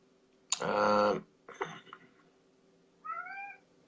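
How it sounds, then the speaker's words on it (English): A cat named Whisk meows several times, one long loud meow followed by a shorter one and then a softer rising call, close by in a quiet room. "He's just meowing for no reason."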